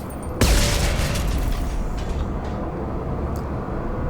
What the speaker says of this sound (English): Got a nice explosion there.